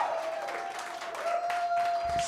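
An audience applauds at a live music performance, a steady wash of clapping throughout with a sustained tone ringing beneath it.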